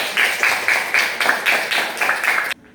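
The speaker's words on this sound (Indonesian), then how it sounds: "Kita beri tepuk tangan dulu." Rhythmic clapping from a group in a classroom, about nine even beats in a steady pattern, then it stops abruptly.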